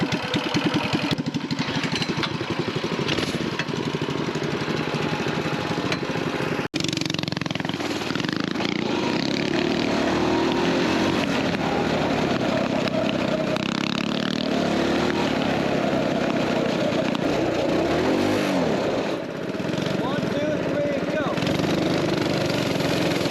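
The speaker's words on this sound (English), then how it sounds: "Should we do some drag racing?" Coleman BT200X mini bike engines idling and revving up close during a drag race, a continuous buzzing drone with rising pitch sweeps, with people talking over it.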